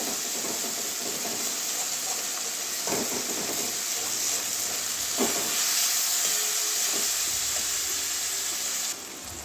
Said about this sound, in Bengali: দু তিন মিনিট কষাবো